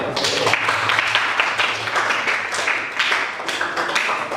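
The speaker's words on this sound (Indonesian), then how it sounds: "tepuk tangan untuk kita semua" A classroom group claps together during an Islamic studies lesson, a dense, steady patter of many hands that holds at an even, fairly loud level throughout, with a few sharper taps standing out.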